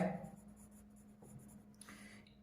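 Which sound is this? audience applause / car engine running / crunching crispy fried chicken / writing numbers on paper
writing numbers on paper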